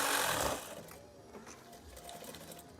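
Sewing machine stitching a folded curtain rope, a short loud burst of rapid mechanical whirring at the start that quickly cuts off, followed by faint clicks and light handling noise.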